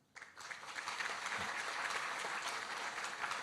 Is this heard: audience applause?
yes